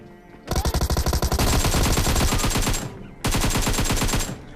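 Rapid M4 rifle automatic fire in a video game, two loud sustained sprays of shots in quick succession separated by a brief pause, with no voices.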